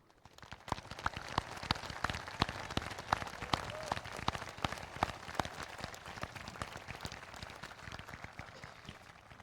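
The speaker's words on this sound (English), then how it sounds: "I would love for all seniors who earned cum laude, magna cum laude, and summa cum laude to stand up to be recognized with a round of applause." A graduation crowd at a high school commencement claps for honor students, a steady patter of many hands heard from a distance, fairly faint and even throughout.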